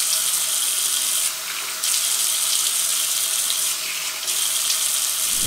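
Tap water runs steadily as it is poured over wet hair during a hair-care routine, a loud, close hiss broken by two short dips where the flow briefly eases, with no talking.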